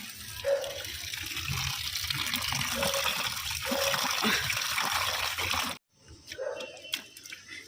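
Water poured over freshly dug turmeric roots in a bowl, a continuous close splashing and trickling for several seconds that cuts off abruptly, with someone talking over it and some household noise.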